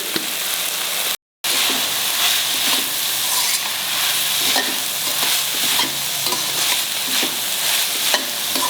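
Chili powder and chili masala sizzle and fry in a hot pan over a high gas flame while ridge gourd is cooked, a steady close crackling hiss with stirring scrapes throughout and a brief silent gap near the start.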